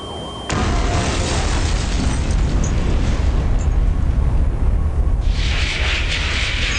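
A loud, sustained explosion in the PC video game Twisted Metal 2: a sudden booming blast that keeps roaring densely for several seconds, with a brighter burst near the end.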